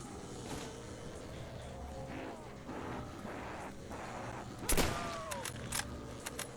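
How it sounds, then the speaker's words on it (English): Bolt-action rifle fire in a video game: one loud, sharp shot cracks out over a low, noisy battlefield background, followed by a few fainter pops. "I love these bolt action rifles"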